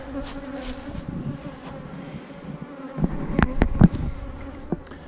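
Honey bees buzz steadily around an opened hive in a bee yard, a dense close drone, with a few louder individual bees zipping past the microphone near the end.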